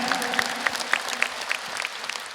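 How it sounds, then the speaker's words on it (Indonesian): Audience applause at a religious talk show, fairly faint clapping from a crowd with irregular sharper claps standing out, heard without talk. "Tepuk tangan lagi untuk Pak Ustadz Asep Hidayat."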